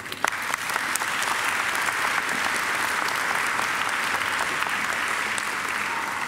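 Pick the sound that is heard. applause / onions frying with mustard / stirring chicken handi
applause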